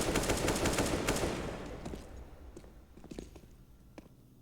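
An AK rifle fires in CS:GO during a professional match on the Train map at IEM Katowice 2021, with a dense burst of rapid gunshots at the start that thins into scattered shots and fades.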